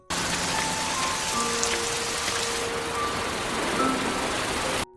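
Steady rain hisses across the whole clip, with scattered drops pattering on a surface and faint tonal beeps in the distance.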